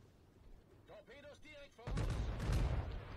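Heavy battleship guns fire in a World of Warships naval battle, a deep rumbling boom arriving near the end after a German voice commenting on the action.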